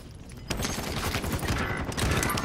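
Dense, continuous rattle of gunfire from a Call of Duty: Modern Warfare match, a steady loud wash with a sharper jolt early on and no clear speech over it.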